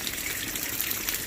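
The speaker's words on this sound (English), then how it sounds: "It is absolutely pouring out here." Heavy rain pours down outdoors during a tornado warning, a dense, steady hiss of water that stays loud and unbroken throughout, with no voices.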